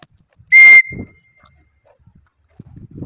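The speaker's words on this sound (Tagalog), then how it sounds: "Ayan, sipulan na natin para bumaba." A single sharp, loud whistle blast rings out briefly, calling racing pigeons down from an evening flight, followed by faint rustling and low background sounds.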